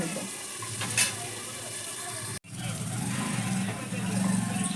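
Onions frying in a pan for chicken curry, a steady close sizzle with a sharp knock near the start and a brief cut midway, continuing fairly loud.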